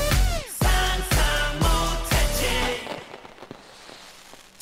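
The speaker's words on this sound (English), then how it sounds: "Fireworks." Fireworks effect inside a K-pop track, heard as a series of about five loud booming bursts with crackling tails spaced roughly half a second apart, layered over the music.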